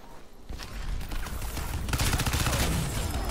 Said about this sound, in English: he got me with the machine gun that he ripped off one of the things